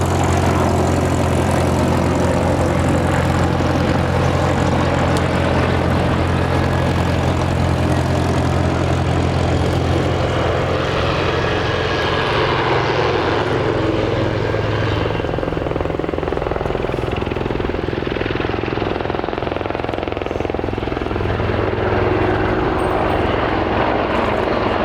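Wildcat and Apache military helicopters fly at the Duxford summer air show, their rotor thump and engine whine loud and steady throughout with a low droning hum underneath.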